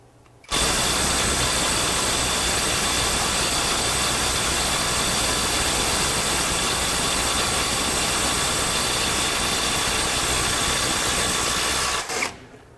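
A Silvel 21V brushless impact wrench runs in reverse for about twelve seconds, a loud steady mechanical whir with no pauses, cutting off sharply at the end.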